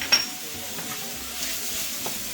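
A spoon stirring Southwest spice into poblano enchilada meat filling in a hot pan, soft sizzling with light scraping strokes at a low, steady level.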